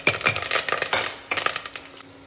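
Onion and curry leaves going into hot oil in a pan, with clattering spoon and utensil knocks over a soft sizzle, irregular and close.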